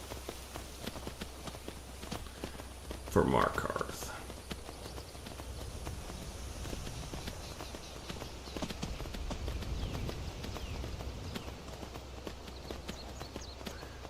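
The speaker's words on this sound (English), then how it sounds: "After climbing on the horse, he began making his ride west" Steady galloping hoofbeats of a horse in the video game Skyrim, moderately close, with a brief spoken remark near the start.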